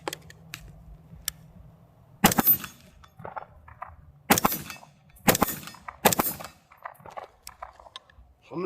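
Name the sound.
AR-15 rifle shots being fired at targets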